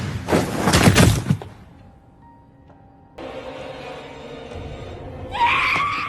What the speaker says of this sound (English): Rinka screams and the horror knocks her out.